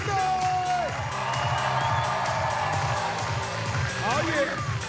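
A live audience at the Medora Musical's 50th anniversary cheers, whoops and shouts loudly and steadily for the whole stretch, as a continuous crowd roar with voices riding over it.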